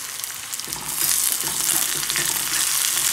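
Curry leaves, shallots and onion sizzle and crackle in hot oil in a pan, the frying starting soft and then rising to a steady, close, bright hiss with a few stirring scrapes.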